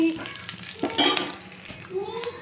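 Hot oil crackles and sizzles in a pan as spices and curry leaves are dropped in for a coconut chutney tempering, with a few metallic clinks from a utensil; close and moderately loud.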